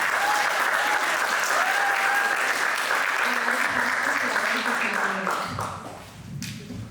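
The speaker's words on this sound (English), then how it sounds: "Let's give a round of applause to our final leaders." Applause from the audience at a student senate candidate debate, a sustained wash of many hands clapping that tapers off near the end as a voice briefly speaks over it.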